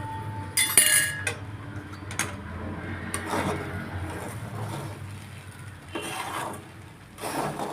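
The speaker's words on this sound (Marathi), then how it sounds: "आता आपण हे झाकण काढून दोन मिनटासाठी खिचडी परत परतणार आहोत" Sabudana khichdi is stirred in a pan once the lid comes off, giving soft scraping and rubbing sounds with occasional metallic clinks from the utensil, fairly quiet and close.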